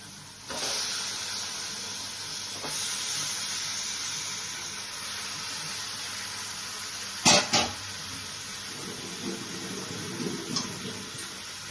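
Mutton pieces soaked in vinegar hit a hot pan and sizzle, a steady loud close hiss that runs on, with a sharper crackling burst partway through.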